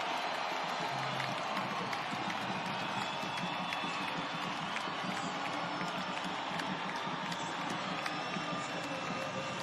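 Home crowd at a USL Championship soccer stadium roaring and cheering after a goal makes it 3-0, a dense, sustained wash of voices and applause at steady loudness throughout.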